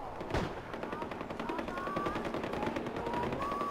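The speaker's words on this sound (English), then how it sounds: "Why are you shooting it?" Rapid automatic gunfire from the video game Far Cry 4, a dense steady stream of close, loud shots with faint tonal whines rising over the clatter, continuing throughout without pause.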